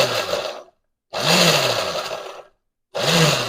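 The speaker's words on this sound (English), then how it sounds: "now we have our peppers in the blender." Countertop blender chopping bell peppers in short pulses: three loud whirring bursts separated by brief silences, close and alone.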